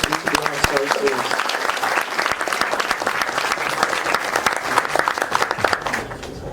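An audience at a lecture event breaks into sustained applause, many hands clapping densely and loudly for several seconds before thinning out at the end, with a voice briefly audible over it.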